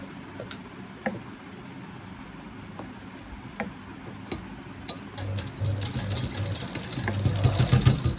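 A sewing machine stitches a blouse, starting with scattered ticks and clicks, then running as a steady mechanical whir that grows louder and busier toward the end, close by, with no talking.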